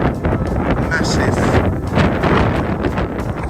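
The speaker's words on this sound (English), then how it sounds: "It's a hugely windy across here as well." Strong wind gusting across open country by a solar farm in Kent, buffeting the microphone with loud, continuous rumbling roar that swells and dips, close and dominant throughout.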